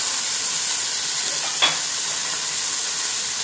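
Chili paste sizzles steadily in a hot pan for seodfood noodles, a continuous close frying hiss with one brief spatter burst midway and no talk.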